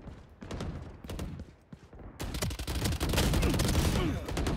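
Gunfire in the shooting game Valorant crackles in rapid bursts, sparse shots at first, then a denser, louder barrage of fire.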